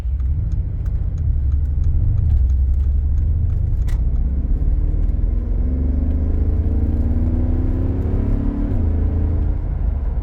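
A 2018 Mercedes-Benz G 63 AMG accelerates hard with a steady, loud engine rumble from inside the cabin, its pitch climbing and settling as the transmission shifts through gears.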